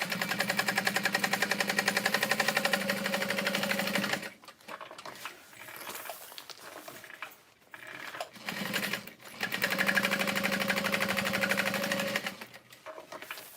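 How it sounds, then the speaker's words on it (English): A sewing machine stitches a waterproof canvas wristlet closed in two loud, steady bursts of rapid mechanical clatter, separated by a pause filled with quieter handling noises. "I'm just gonna sew it up. Sew it closed."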